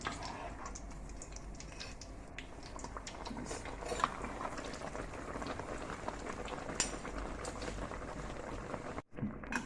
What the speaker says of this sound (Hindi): दोनों तरफ से अच्छी तरह फ्राई हो गया।